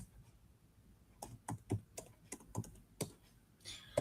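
A computer keyboard typed on while writing code, with sparse, uneven clicks and a few louder key strikes in a quiet room, close to the listener.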